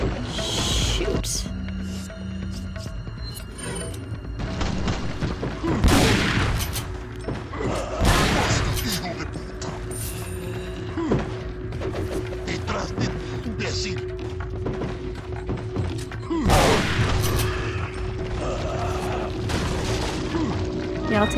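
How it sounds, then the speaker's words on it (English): Shotgun blasts boom repeatedly in the video game Resident Evil 4, loud heavy shots spaced a few seconds apart amid game noise, with a person talking throughout. "I have my own shotgun"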